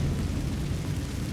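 Confringo blasting spell explosion in the Hogwarts Legacy video game, a loud, dense burst of roaring noise lasting just over a second with no gaps.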